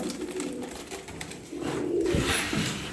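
Young tumbler pigeons give soft, low cooing, close and fairly faint, with a short rising coo near the end over outdoor background noise.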